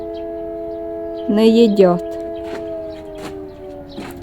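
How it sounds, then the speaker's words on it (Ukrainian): An air raid siren wails over the countryside in Ukraine, a steady, droning tone running through the whole stretch, with a short burst of animal calling early on and a brief spoken comment over the siren. "повітряна тривога"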